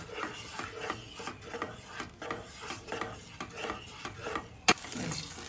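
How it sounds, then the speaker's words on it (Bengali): A utensil stirs whisked yogurt into an eggplant curry in a pan, giving steady rhythmic scraping strokes about every half second, close and moderately loud, with a sharper knock near the end. "ফেটানো দইটা এর মধ্যে আমি অ্যাড করে দিচ্ছি, যে এটা সমানে নাড়তে হবে"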